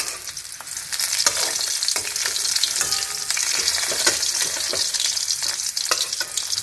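Fish and potatoes fry in mustard oil, producing a dense, continuous crackling sizzle close by, with occasional sharper pops and stirring scrapes and no talk.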